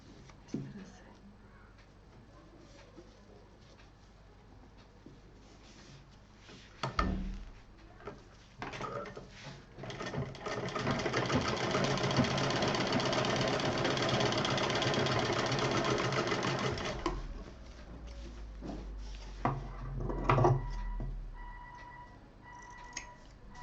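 Sewing machine running in a steady burst of several seconds as it stitches fabric pieces for a DIY scissor case, a close, even mechanical chatter, with short handling sounds and quiet speech around it.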